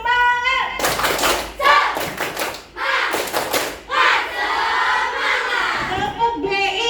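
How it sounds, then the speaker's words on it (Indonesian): A school class chants and claps in unison for a 'tepuk semangat' spirit clap, with loud bursts of children's voices and rhythmic claps coming in several rounds, close by in a classroom. "Oke, kita tepuk semangat dulu."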